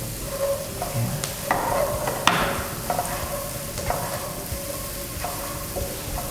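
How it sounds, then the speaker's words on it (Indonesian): Kaffir lime leaves and mushroom broth being stir-fried in a pan for an Indonesian lime-leaf chicken rice dish: steady close sizzling with repeated spatula scrapes and stirring clacks, no voices. "ini kita tumis sampai kira-kira agak matang gitu ya"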